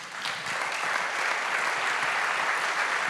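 A conference audience at a local summit applauds, a dense and even wash of many hands clapping that holds steady and fairly loud the whole way through.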